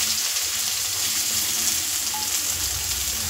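Finely chopped onions sizzle steadily in hot oil, a dense continuous frying hiss with no pauses, close and fairly loud, and no voices over it.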